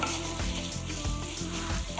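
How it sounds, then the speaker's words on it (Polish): Chicken fries in butter in a pan with a steady, dense sizzle and crackle, close up, with no voices. "Będę go smażyć przez kilka minut."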